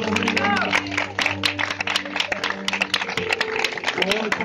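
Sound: audience applause

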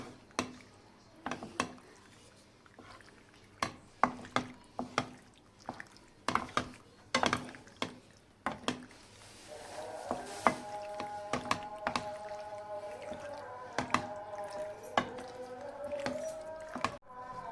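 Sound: penne pasta being stirred together with sauce

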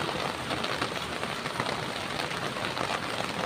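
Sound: rain falling

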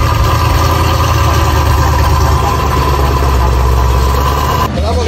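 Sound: car engine chopping noise

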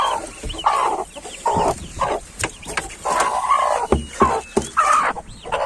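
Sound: hen and chicks clucking

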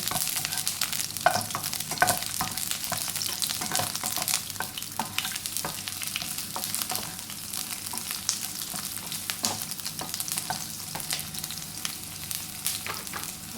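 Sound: onions being stir-fried in a pan

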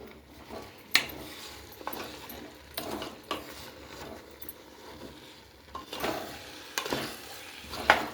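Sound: stirring chopped vegetables for pav bhaji in a pan

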